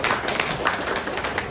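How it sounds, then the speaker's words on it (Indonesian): An audience claps for a woman at an anti-corruption program launch event, a steady, dense wash of hand claps filling the room with no pauses. "Tepuk tangan dulu dong buat ibu di sana"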